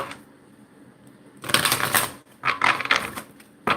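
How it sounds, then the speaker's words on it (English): Tarot cards riffled fast in quick bursts, a crisp flapping patter that starts softly and surges loud in two rapid runs, with a brief pause between them and no talking. "I'm shuffling these cards real fast"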